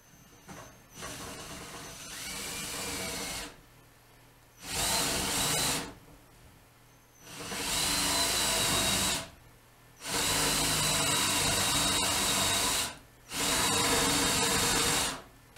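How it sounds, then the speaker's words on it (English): A power drill bores into wood for a Windsor chair in five long bursts separated by short pauses, loud and close, with a whining hiss. "Now I start drilling."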